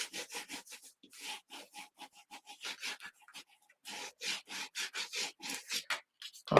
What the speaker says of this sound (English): I'm going to burnish this back a little bit, just to make sure we have good connection